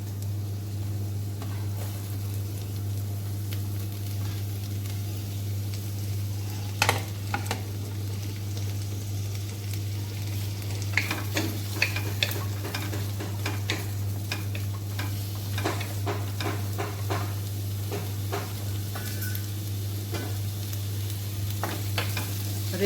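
Chopped onions and green chillies roast in a large spoonful of ghee, giving a steady close sizzle with scattered clicks and scrapes of stirring over a constant low hum, without speech.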